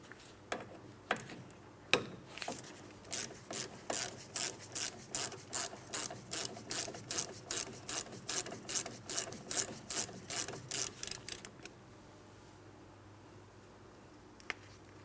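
A wrench, 11mm, works the rear brake hose fitting on the caliper of a 2004-2008 Pontiac Grand Prix, giving a steady series of close, sharp metallic ticks and ratcheting clicks for about ten seconds before going quiet.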